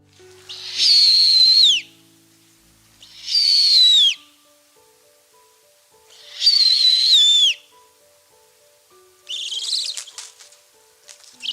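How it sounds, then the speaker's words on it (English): Owl calls in a children's animal story setting: three loud, drawn-out hooting or screeching cries with pauses between them, then a harsher, noisier call near the end, over faint background tones. "And here are some sounds that owls make."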